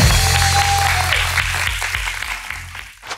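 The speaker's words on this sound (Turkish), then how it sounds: "Alkışlayalım bir Özge'yi." Studio audience applause on a Turkish late-night talk show, a broad wash of clapping that tapers off, with a tonal musical sting underneath at the start.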